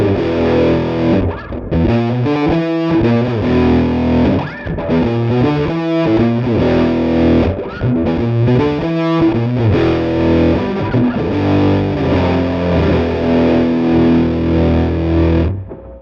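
Heavily distorted electric guitar through a Flamma cab simulator with the high cut fully off, playing chords and riffs with a dark, muffled top end, loud and continuous with short rhythmic breaks.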